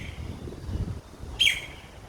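A bird gives one short, clear chirp that rises above low background rumble, heard briefly near the end.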